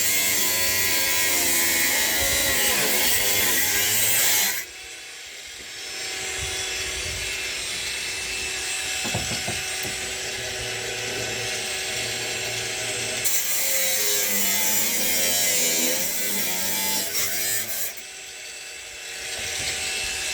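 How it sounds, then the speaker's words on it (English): A power tool cuts and grinds rusty metal on a Suzuki Jimny during rust repair, a harsh high-pitched whine running in long bursts with short pauses and a drop to a lower hum between passes. "sometimes you might need to cut that or grind that to get that off"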